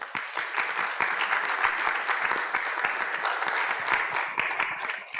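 A congregation bursts into steady, dense clapping at a Spanish-language church service, many hands together at close range for several seconds with no talk over it.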